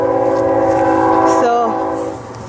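A train passing nearby sounds a long, loud multi-tone horn that bends downward in pitch near its end, amid steady rail rumble in a city garden setting.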